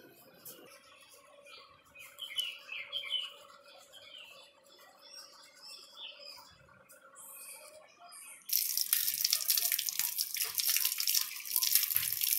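Running tap water pours steadily over chickpeas being washed, a loud broadband rush starting partway through after quieter indoor rustling and faint squeaks.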